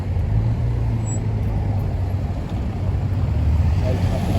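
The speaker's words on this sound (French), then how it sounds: "Tiens, on a le RS4 qui repasse." An Audi RS4 passes in dense Paris traffic, a steady loud engine and road rumble that swells slightly toward the end amid general street noise.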